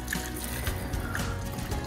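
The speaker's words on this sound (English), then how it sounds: "I'm gonna pour this sauce over the dumplings." Sauce poured over apple dumplings, a steady close trickle of liquid lasting a couple of seconds with no talk.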